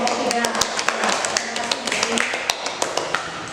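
A small group of students in a classroom counseling session claps for a presenting group. The claps are sharp and distinct and fall in a steady rhythm, close and fairly loud, with talking underneath.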